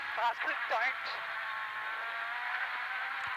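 A rally car on a long uphill climb of a power stage, its engine droning at a steady high pitch as the wheels spin for traction, heard under a commentator's talk.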